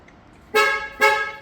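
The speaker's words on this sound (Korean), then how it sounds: "잠금" A car horn from a Mikey Premium 3 Advance factory alarm gives two short honks as the car locks, close and loud, with a brief gap between blasts and no talking.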